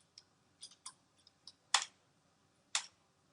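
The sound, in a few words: pressing the F1 function key on a keyboard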